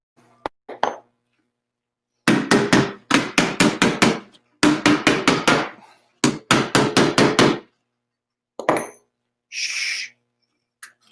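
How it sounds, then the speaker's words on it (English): A hammer drives a small metal door onto a homemade paint-can wood stove in rapid bursts of sharp metallic strikes, separated by pauses and a few lighter clinks. "you could hammer it on."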